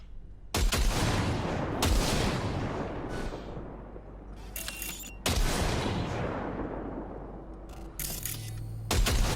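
A gun in Cyberpunk 2077 is fired at practice targets during calibration, letting off two long, loud bursts of gunfire up close. Each burst roars on for several seconds and then trails off, with a few short shots in between and near the end.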